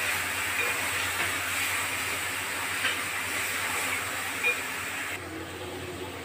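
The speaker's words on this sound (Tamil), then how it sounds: "இப்போ சின்ன வெங்காயம் போட்டிருக்கிறதுனால கொஞ்சம் நேரம் ஆகும் வதக்கிறதுக்கு" Small shallots sauté in a pan for a Kerala-style duck roast, giving off a steady, close sizzling hiss that stays even throughout.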